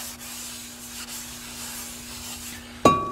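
Rag soaked in brake cleaner rubbing over a new brake caliper, a steady scrubbing hiss lasting several seconds with a sharper clunk near the end, close and alone.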